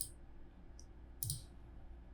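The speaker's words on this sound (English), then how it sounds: "For that I am clicking here." A computer mouse clicks during AutoCAD drafting, a few crisp, close clicks in quick succession over quiet room tone, with no talking.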